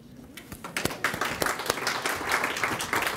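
A symposium audience on postal banking services breaks into applause, starting sparse and quickly filling into steady, fairly close clapping that carries on to the end.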